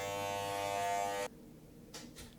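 Electric hair clippers fitted with a guard buzz loudly and steadily while cutting hair, then cut off abruptly partway through, leaving quiet room tone with a few faint rustles.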